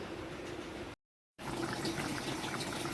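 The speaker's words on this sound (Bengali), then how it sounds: "এই যে এটা ব্যাটারি ফিল্টার এটার মধ্যে জল ভরবো" Water poured steadily into a battery water filter in a home kitchen, a close, continuous splashing fill that cuts out for a brief pause and then resumes.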